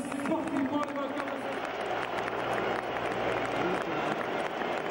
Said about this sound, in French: applaudissez sportivement le vainqueur